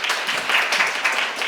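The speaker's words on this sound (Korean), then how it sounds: "주성희 교수님과 8분께 다시 한번 큰 박수 부탁드립니다" An audience claps warmly at a student-centred smoking prevention policy forum held at the National Assembly, a brief dense burst of applause from many hands, with no voices.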